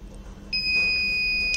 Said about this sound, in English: Here we can see the buzzer indication